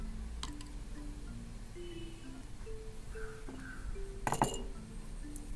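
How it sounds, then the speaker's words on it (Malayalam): Ice cubes drop into a glass of lemon juice drink, giving a couple of brief, faint glassy clinks. A soft tonal background murmur sits underneath. "ഇനി നമ്മൾ ഇതിലേക്ക് രണ്ട് ഐസ് ക്യൂബ് കൂടി ഇട്ട് കൊടുക്കുകയാണ്"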